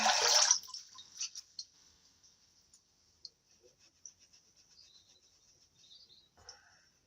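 A flannel washcloth is dunked and swished in a bowl of water, opening with a burst of splashing, then quiet intermittent drips and soft trickles close by.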